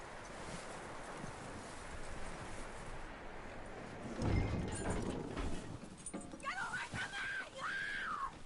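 Horse hooves clop on the ground in Red Dead Redemption 2, with a steady, moderately close clatter over rustling game ambience, a heavier thump midway, and a voice or whinny-like tone near the end.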